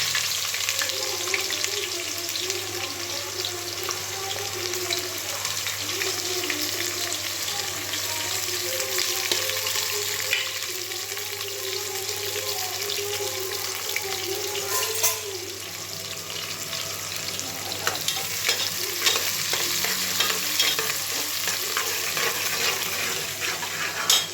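Cinnamon and cloves fry in hot oil with a steady, moderately quiet sizzle, joined by occasional stirring clinks and light kitchen clatter.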